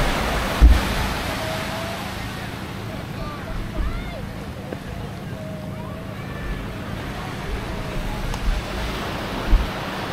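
Steady wash of sea waves breaking at Tando Beach in Infanta, Quezon, with wind buffeting the microphone and a few faint distant voices.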